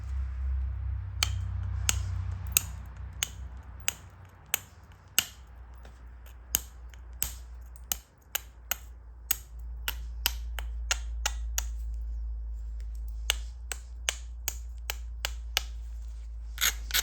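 Sharp, bright clicks and ticks of flintknapping ring out one after another at an uneven pace as the edge of an Ocala chert point is beveled, each close strike standing out over a low steady rumble.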